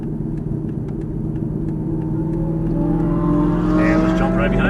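A race car engine drones on track from onboard, a loud, steady roar whose pitch climbs smoothly as the driver gets hard on the throttle toward a corner.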